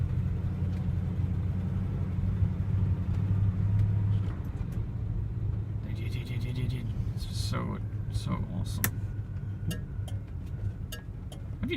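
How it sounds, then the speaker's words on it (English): A 1971 Oldsmobile Cutlass driving, its engine giving a steady low rumble that eases slightly partway through, with people talking inside the car over the drone. "I hope you enjoyed the last ride in the 71 Olds"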